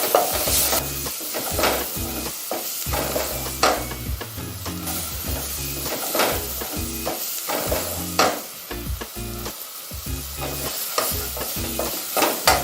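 Freshly sliced leeks and onions frying with a little turmeric, a continuous close sizzle broken by repeated rhythmic scrapes and knocks of a spoon against the pan, with no voices.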